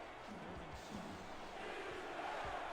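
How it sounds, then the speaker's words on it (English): A football stadium crowd at a Houston home game swells into a loud, steady roar that fills the whole stretch, with no single voice standing out. "Crowd getting loud."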